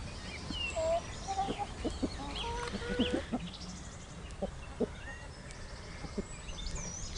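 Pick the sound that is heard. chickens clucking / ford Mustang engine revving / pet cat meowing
chickens clucking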